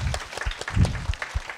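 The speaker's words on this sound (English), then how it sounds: "We want to give them a round of applause?" Audience at a cardiac rehab heart health forum applauding the volunteers, a scattered, uneven clapping with a few loud close claps and a cheer.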